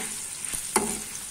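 Turmeric, spices and green chilies fry in a pan for tamarind pulihora, a constant gentle sizzle with one sharper scrape of a stirring spoon near the middle, close and alone.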